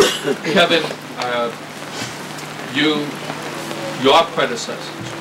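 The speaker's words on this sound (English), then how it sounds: "it is not smart for a politician to speak long while police officers are standing in the rain" Steady rain patters down over an outdoor Moving Wall memorial ceremony, a soft constant hiss beneath a man's amplified speech.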